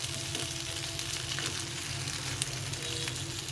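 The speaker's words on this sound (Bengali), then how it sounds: "একদিকে ভাজা হয়ে গেলে এগুলো উল্টে পাল্টে এদিক করে লাল লাল করে ভেজে নিতে হবে" Patties made from oat flakes fry in a pan with a continuous soft sizzle and crackle, steady and close, with no talking.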